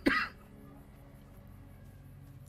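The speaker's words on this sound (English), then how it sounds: "Except for this damn cough" A single sharp cough during a Fallout: New Vegas livestream, close and loud at the very start, then only faint background hum.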